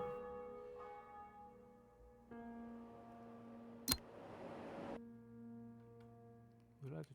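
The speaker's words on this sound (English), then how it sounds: "I've even included the old cathedral bells." Old cathedral bells ringing in the railway video game Rail Route, faint sustained tolling tones with long decay, one sharp click midway and a brief louder sound at the end.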